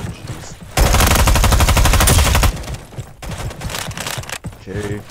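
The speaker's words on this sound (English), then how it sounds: "my trusty old MP5 SMG" Rapid automatic bursts from an MP5 submachine gun in the Roblox shooter Frontlines, a dense, loud, close stream of shots followed by scattered distant gunfire and game noise.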